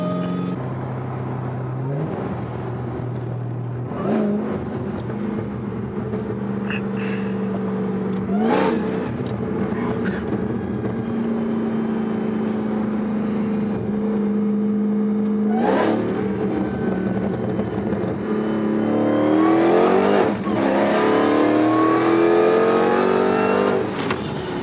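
Dodge Hellcat V8 engine revving through hard pulls, loud rising and falling rev sweeps with gear shifts and a big surge toward the end, heard from inside the car with no talking.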